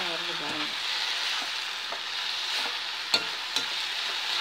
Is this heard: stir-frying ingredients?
yes